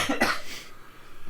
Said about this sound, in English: coughing like a pig over here